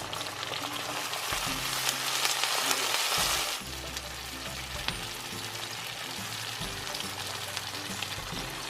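Curry leaves and green chilies dropped into hot oil for Kerala lemon pickle, bursting into a loud sizzle that settles into steady crackling frying, close, with a low hum underneath and no talking.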